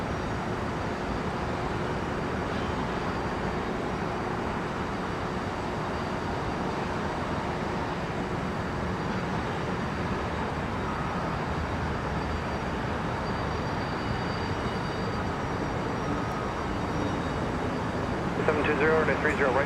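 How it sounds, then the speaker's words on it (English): A continuous, loud jet airliner roar fills the scene at Minneapolis–St. Paul airport as a plane arriving from Seoul, South Korea, rumbles steadily, broad and unchanging throughout. "This aircraft just arrived from Seoul, South Korea."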